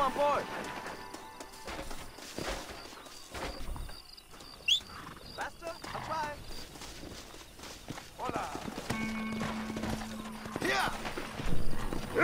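Horse hooves clip-clop at a walk across the ground in the western game Red Dead Redemption, an irregular series of thuds under game music and character dialogue.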